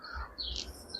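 At a cow shelter, small birds give a few thin, high chirps that sound faint and distant, carried over a low background rumble.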